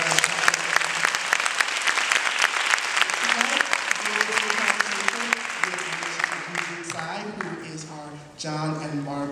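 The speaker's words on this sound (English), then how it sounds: "Can we give her a round of applause?" An audience at an art conversation event claps loudly and densely, then the ovation thins and fades while a voice begins talking over it.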